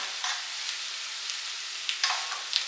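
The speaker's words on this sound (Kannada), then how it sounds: "ಇದೊಂದು ಸ್ವಲ್ಪ ಫ್ರೈ ಆಗಲಿ" Green chilli and garlic paste frying in a pan with turmeric, a soft steady sizzle with brief crackling bursts, no talking.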